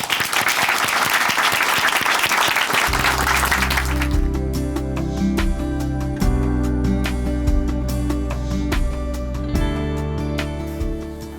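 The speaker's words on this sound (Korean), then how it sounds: "박수로 모시겠습니다" A church audience at Chuncheon Hanmaum Church applauds to welcome a speaker, a dense, loud burst of many clapping hands that fades after a few seconds as music and other sounds continue underneath.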